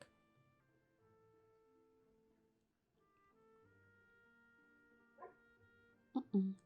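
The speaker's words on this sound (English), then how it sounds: "What's he barking at?" A dog barks a few times in two short bursts near the end, faint and in the background behind quiet soft tones; no talk.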